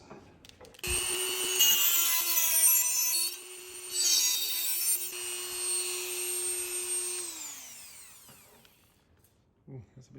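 Power tool cutting a slot into a mount for a Garmin Catalyst in a Porsche Cayman 987, a steady high whining buzz that holds for several seconds and then winds down as the tool spins to a stop.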